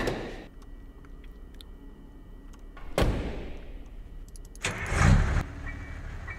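A car engine starts in a video game: a sharp thump, a fading low hum, then a louder cranking burst as the engine catches, all fairly quiet.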